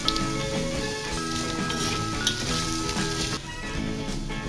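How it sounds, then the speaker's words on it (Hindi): Carrots dropped into hot oil with garlic and ginger in a pan for vegetable pulao, a dense steady sizzle with a few small pops, close and fairly loud, no talking. "थोड़ा सा पकाएंगे, इसमें गाजर डाल देंगे"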